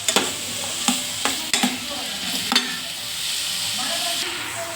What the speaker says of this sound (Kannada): ಇದನ್ನು ಕೆಂಪಗಾಗೋ ಗಂಟ ಫ್ರೈ ಮಾಡ್ಕೊಳ್ಳೋಣ.